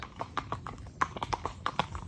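Horse hooves clip-clop steadily at a walk on a hack, each strike crisp and fairly close, with someone talking quietly in the background.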